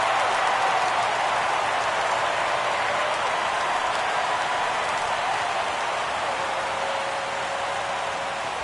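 A crowd of more than 37,000 at Marlins Park roars steadily during the 2017 MLB All-Star Game, a dense, sustained wash of cheering that eases slightly toward the end.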